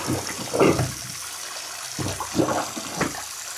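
Steaming boiling water poured into a clogged sink drain, giving irregular gurgling splashes and glugs in several bursts, close and moderately loud against a steady background hiss.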